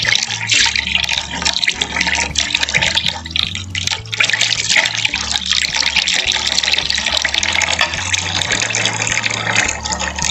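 Water runs steadily into a container of cassava starch to dilute it, a continuous close splashing and trickling fill that goes on without pause and with no talk.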